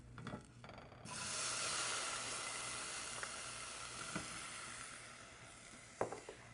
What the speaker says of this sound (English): now I'll add in 1 cup of diced fresh tomatoes